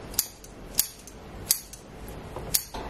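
Kitchen scissors snip through salt cod in four sharp, evenly spaced cuts, close and crisp over a quiet room.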